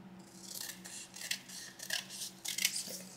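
Scissors snipping paper trimmed around a covered envelope for a junk journal: a close, quiet series of crisp cuts and soft rustles, several snips over a few seconds, with no talk.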